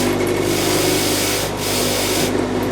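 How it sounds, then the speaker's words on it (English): A bristle brush loaded with polishing compound works a white gold diamond ring after resizing, giving a steady, close whirring rub that runs without pause for the whole stretch. "Next step, we bristle the ring."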